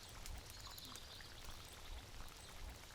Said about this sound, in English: we continue by adding the pre-cooked red beans